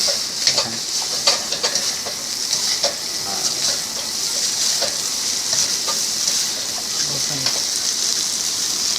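Mama instant noodles stir-fried drunken style with big shrimp sizzle steadily in a hot pan, a constant bright hiss with scattered clinks and scrapes of stirring, while voices talk faintly in the background.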